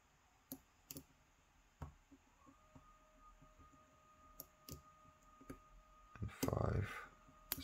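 Faint, sparse clicks of pins setting while an Abus XP1 lock is picked, isolated sharp ticks spaced irregularly, followed near the end by a louder scraping rustle.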